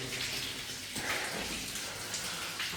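Storm water pours into a sewer tunnel like a waterfall, a continuous rushing, splashing roar that fills the enclosed space at a steady loudness.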